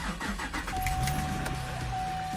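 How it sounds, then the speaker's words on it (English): A Chevrolet Camaro sports car engine with manual transmission revs up briefly, the exhaust rumbling and then settling to a steady idle, heard from inside the cabin with no talking. "give you guys just a quick little rev and exhaust to see what it sounds from the inside"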